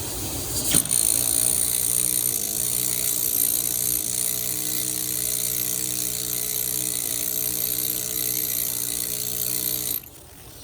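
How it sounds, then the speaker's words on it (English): A steady, high-pitched pneumatic drill whines continuously at close range, cutting into stone for about ten seconds before abruptly cutting off. "So let's see if I can drill a little bit of this and see how it works."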